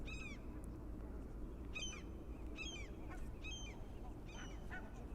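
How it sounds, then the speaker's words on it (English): Ducks and geese call repeatedly in a series of short honking bursts, moderately near, over steady low outdoor rumble on a calm evening in Helsinki. "ducks and geese."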